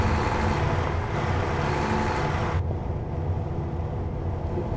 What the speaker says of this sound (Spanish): Me gusta cómo se escucha ese motor